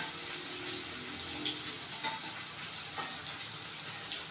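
Tomatoes dropped into onions frying in oil in a pan for a potato and cashew curry, a continuous bright sizzle with a few crackles, close and fairly loud with no talk.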